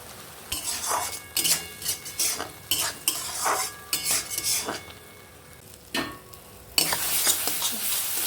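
Chopped ridge gourd with turmeric and salt is stirred in a pan, a spatula scraping and clinking in bursts over a soft sizzle, then a louder steady frying hiss near the end; nobody talks.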